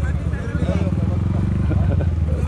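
A motorcycle wades through deep high-tide water on a coastal road in Baliguian, Gutalac, its engine droning steadily under continuous nearby talk.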